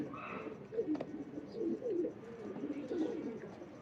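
Soft repeated coos from Ferozpuri and Rampuri pigeons, low throaty warbling calls close by, rising and falling in short phrases over a quiet background.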